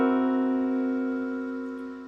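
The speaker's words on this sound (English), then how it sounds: "And so this is a dominant 7th with a flatted 5th," A dominant seventh chord with a lowered fifth, struck once and left to sustain as a single smooth, slowly fading block of tones, close and alone.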